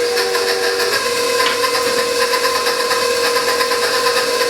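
An electric mixer beats an egg into brown butter bourbon pecan cookie dough, giving a steady, close whirring hum with a constant motor tone and no talking.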